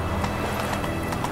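Horse hooves clip-clop at a steady trot in The Witcher 3, a brisk rhythmic patter of several close, fairly loud hoofbeats over faint game background.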